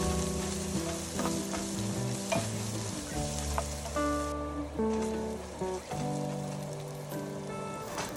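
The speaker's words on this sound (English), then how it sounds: "Fry it for a few seconds, but do not burn the chili and garlic." Chili and crushed garlic fry in hot oil for a spicy potato aloo dum, giving a steady, close crackling sizzle beneath background music with sustained tones.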